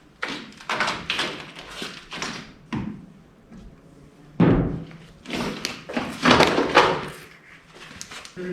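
An old door gasket is pulled off a 1985 Chevy door: scattered thumps, taps and rubbery scrapes come in irregular bursts, close to the microphone, with no talking.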